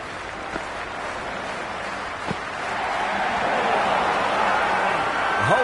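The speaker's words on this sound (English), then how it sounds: "The crowd are really getting quite raucous." A raucous stadium crowd in the Cricket 26 video game, at an Australia vs India T20 match at Carrara Stadium on the Gold Coast, gives a broad wash of cheering that swells louder partway through and stays high.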